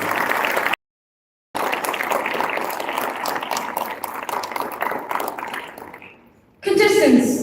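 Applause from an audience greeting the contestants at a Gavel Club speech evaluation contest grand finale, a dense, steady patter of many hands lasting several seconds before fading, with a brief gap near the start and voices rising at the end.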